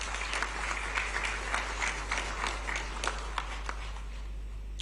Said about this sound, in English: Shall we give him a round of applause, please?